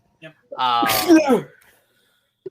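A single loud, close sneeze bursts out after a short intake of breath, with a brief spoken word heard nearby.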